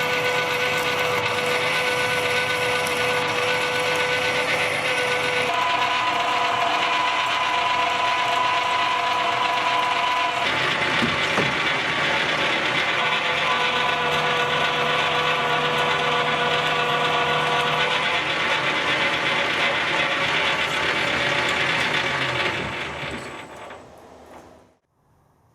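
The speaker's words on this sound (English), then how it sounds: "It's a nice new drill." A new drill bores into metal with a steady grinding, ratcheting whir that holds close and loud for about 23 seconds, its pitch shifting midway before it stops and fades out.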